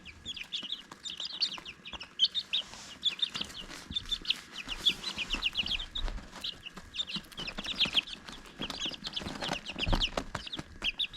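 Bantam chickens in a large brooder cluck and chirp in quick, overlapping bursts, close by, with soft scratching and pecking noises between calls.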